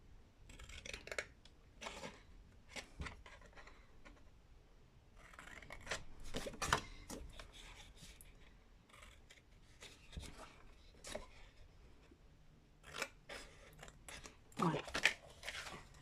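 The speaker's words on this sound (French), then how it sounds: "Et les 6 petits carrés comme tout à l'heure, on découpe." Small paper squares for scrapbooking are snipped with scissors in a run of quick, close crisp cuts and rustles, with pauses between bursts.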